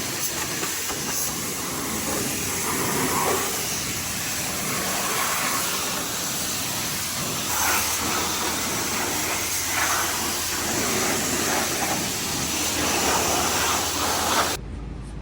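An old, long-neglected Can-Am side-by-side washed with a water spray produces a loud, steady hissing rush of water that continues throughout with small shifts in intensity, then stops abruptly at the end.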